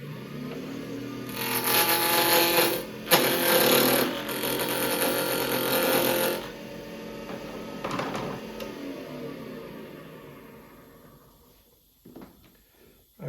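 Wood lathe spinning a wood piece while a tenon is cut, with loud bursts of tool-on-wood scraping broken by short pauses, then fading to a quieter hum as the cutting stops; no talking.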